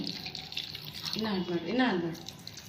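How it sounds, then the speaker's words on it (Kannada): Water is poured into a pot of vegetable biryani with peas, beans and carrots, a soft gurgling splash rising in the middle of the pour, heard faintly beneath a person talking. "ನೀರು ಕಮ್ಮಿ ಆಗಿರೋದ್ರಿಂದ ನಾನು ಸ್ವಲ್ಪ ಇದಕ್ಕೆ ನೀರನ್ನು ಆ್ಯಡ್ ಮಾಡ್ಕೋತಾ ಇದ್ದೀನಿ"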